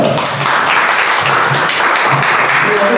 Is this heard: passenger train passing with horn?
no